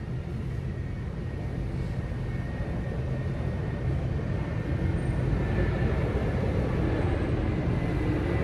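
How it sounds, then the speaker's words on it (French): An airplane passes overhead as a steady, broad roar that holds at a constant level throughout, with no voices. "l'avion qui passe"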